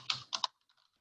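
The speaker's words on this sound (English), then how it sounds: "I'm going to type in Andersonville" Computer keyboard typing during a real-estate listing presentation setup: a quick cluster of three close, crisp key-press bursts, followed by a few faint, soft taps trailing off into quiet.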